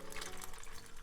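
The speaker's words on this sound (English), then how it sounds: "I'm pouring my beverage here." A drink being poured into a cup, a steady liquid trickle and splash running throughout at close range, with no talking over it.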